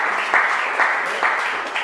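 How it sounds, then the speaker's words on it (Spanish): An audience at a multilingual poetry recital in Lucena applauds, producing a brief burst of dense, steady clapping with slight swells. "Un aplauso para Eva y para mí."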